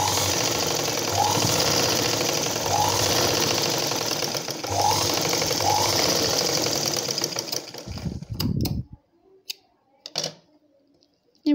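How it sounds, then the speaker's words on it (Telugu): Sewing machine stitching a blouse runs in a fast, steady mechanical rattle for about eight seconds, then stops, followed by a few soft handling clicks and rustles of fabric. "ఈ వెనక ఈ వారి నుంచి మనం స్టిచ్చింగ్ చేసుకోవాలి"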